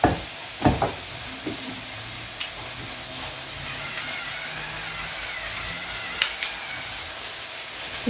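Pork filet mignon searing in a hot pan gives a steady, moderate sizzle and hiss throughout, with a few sharp ticks and pops scattered over the stretch and no talking.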